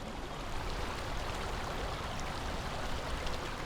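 A river flowing in an outdoor field recording, a dense, even rush of churning water that holds steady and fairly close the whole time, with no voices.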